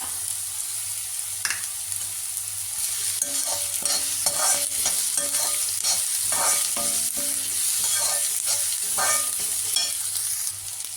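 Garlic, green chillies and curry leaves sizzle in hot oil for chilli idli, a steady close crackle with scattered spatula scrapes and pops and no talking.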